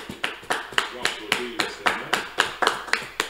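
A church congregation claps in praise of the Lord, a loud, regular rhythm of about three claps per second, sharp and evenly spaced, with voices faintly underneath.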